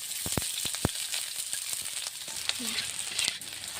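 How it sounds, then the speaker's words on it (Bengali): Steady crackling sizzle of onions and green chillies frying in hot oil, with a few sharp clinks of a utensil near the start. "তো তেলটা গরম হয়ে গেছে, আমি প্রথমে পেঁয়াজগুলো ভেজে নেব।"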